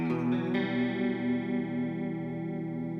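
Electric guitar run through a chorus effect pedal, with a sustained chord shimmering and wavering in pitch, loud and close, ringing out alone without any talk.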